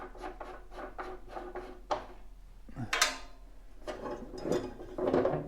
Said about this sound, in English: you're just going to loosen this little